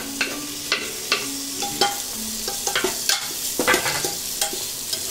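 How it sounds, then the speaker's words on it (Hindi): Vegetables with carrot, bottle gourd, tomato and sweet corn frying in a pan while a spoon stirs, steady sizzle under a run of sharp scraping strokes every second or so, close and clear, no talk. "अभी मैं इसमें टमाटर डालूंगी और स्वीट कॉर्न भी डाल दूंगी।"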